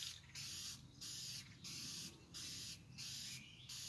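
Fast-drying Krylon spray paint hisses from an aerosol can in six short, evenly spaced bursts during touch-up work on a camper, each burst separated by a brief quiet gap.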